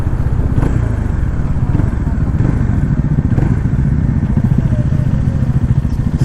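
Bajaj Dominar, Apache and KTM Duke 250 motorcycles ride together on a weekend group trip, giving a loud, steady engine drone with rough rumble and wind noise throughout.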